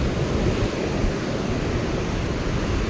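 Water rushes steadily through a dam channel at Marikanive, a dense, continuous roar heard close by and alone, with no pauses or voices.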